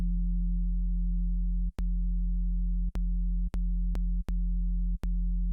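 A steady low synthesizer oscillator tone hums continuously as its phase is changed, broken by a few sharp clicks at irregular intervals.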